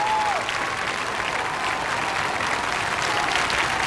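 A packed arena audience applauds steadily and loudly after a pairs free skate at the 1996 Trophée Lalique, a dense, sustained wash of clapping with a faint commentator voice underneath.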